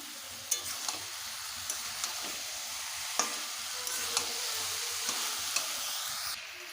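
Spices with ginger-cumin paste, chili powder and fried fish heads crackle and sizzle in a pan for a cabbage ghonto, steady frying hiss broken by several sharp clacks of a stirring spoon, close and fairly quiet.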